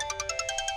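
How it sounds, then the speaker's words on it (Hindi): A mobile phone ringtone plays as a rapid, evenly pulsing electronic tone, steady and fairly faint, with no voices over it. "काफी देर से तुम्हारा फोन बज रहा है"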